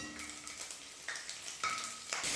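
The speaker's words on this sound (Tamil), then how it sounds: "பூண்டு ஒரு 7-8 பல் எடுத்துருக்கு, அதை சேர்த்துக்கிறேன்." Garlic cloves frying with mustard seeds in sesame oil in a kadai give a quiet, close sizzle, broken by a few brief scraping stirs.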